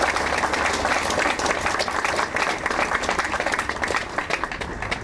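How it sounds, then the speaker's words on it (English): An audience at a stadium groundbreaking press conference applauds for a coach, a dense, steady wash of clapping from many hands that carries evenly through the whole stretch without pause. "I would like us to give him a round of applause."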